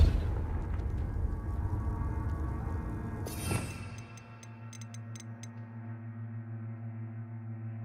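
Depulso spell cast in the video game Hogwarts Legacy, a low rumbling blast that swells and ends in a sharp burst, followed by a few light ticks over a steady low hum.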